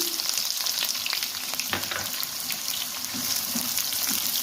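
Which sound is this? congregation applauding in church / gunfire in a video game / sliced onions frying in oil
sliced onions frying in oil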